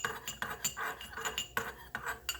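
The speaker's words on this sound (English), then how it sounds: "And then I just take a spoon and mix it together" A spoon clinks repeatedly against a dish while mixing soy sauce, giving a series of close, bright metallic taps in an irregular rhythm with no talking.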